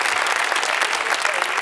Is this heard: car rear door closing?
no